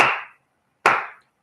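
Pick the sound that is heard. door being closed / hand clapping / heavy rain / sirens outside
hand clapping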